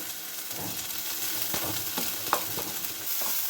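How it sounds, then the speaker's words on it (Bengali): A steady, close sizzle of ginger, onion and garlic frying in a pan, broken by the scrape and clatter of stirring, with no voices. "এটা একটু হালকা ভাজা ভাজা করে নেব।"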